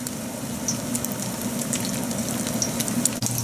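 Fish cakes frying in a pan two at a time, a steady close crackling sizzle of hot oil with no talking.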